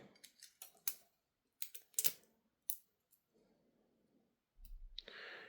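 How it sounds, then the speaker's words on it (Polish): Plastic dome cover of an electrical relay being pried open, a run of sharp plastic clicks and snaps close up, then a pause with faint rustling and a brief low thump and scrape at the end. "Kolejny przekaźnik, żeby się do niego dostać. Otwieramy kopułkę."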